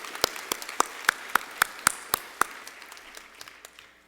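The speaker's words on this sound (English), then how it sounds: "we could give him a round of applause, please" A few people clapping at a high school graduation ceremony, sparse, distinct claps at an even, moderate pace that thin out and trail away, fairly faint and heard alone.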